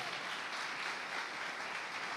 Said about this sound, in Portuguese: Dá uma salva de palmas a ela, por favor.